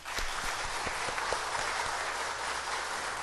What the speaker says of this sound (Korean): 우리 환영의 박수를 한번 좀 해주세요